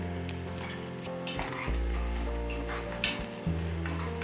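A spoon stirs turmeric through mutton keema in a pan, a soft continuous scraping with a faint sizzle and a few sharper clinks against the metal, close and with no talking.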